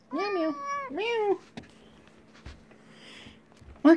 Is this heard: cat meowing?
yes